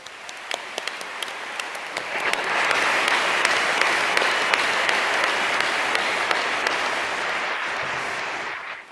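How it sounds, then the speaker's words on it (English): A commencement audience applauds the graduating law class, scattered claps at first swelling after about two seconds into sustained, dense applause that holds steady before tapering near the end. "Let's give the graduating class a round of applause."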